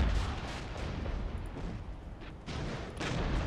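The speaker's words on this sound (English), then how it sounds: "Artillery strike." Artillery strike in a Cold War video game, East German rocket artillery hitting NATO forces: continuous heavy rumbling barrage of booms and blasts, loud and dense, surging again near the end.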